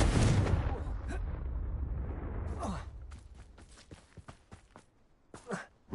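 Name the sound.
Confringo blasting spell cast in Hogwarts Legacy video game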